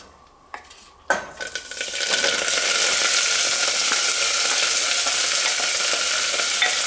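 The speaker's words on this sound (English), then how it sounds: "what I want to do is quick saute our vegetable mix" Vegetable mix with garlic sautéing in canola oil for Puerto Rican–style vegetarian beans, beginning with a few utensil clicks before a loud, steady sizzle takes over and holds, with occasional stirring scrapes.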